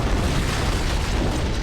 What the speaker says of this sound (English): It must have been one of their boarding parties. I'd guess an antimatter charge.